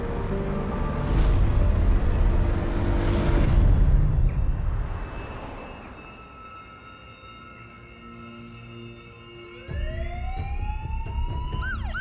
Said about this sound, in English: Police sirens pierce the Saturday morning calm